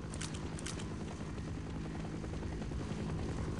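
Helicopter in the Half-Life video game, a loud, steady rotor thrum with rapid chopping blades, close and continuous throughout with no voices.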